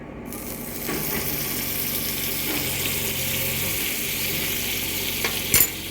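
Broccoli, cheese and other pizza toppings stirred together in a bowl, a continuous soft scraping and rustling with a few sharper clinks of the spoon against the bowl near the end.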